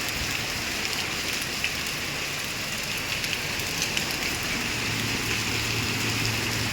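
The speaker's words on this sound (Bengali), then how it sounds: "প্রচণ্ড ঝড় হচ্ছে বাইরে, প্রচণ্ড ঝড়। শিলা বৃষ্টি হচ্ছে।" A hailstorm with heavy rain falls outside: a steady, even hiss of downpour with scattered small ticks of impacts, moderately quiet and without talk.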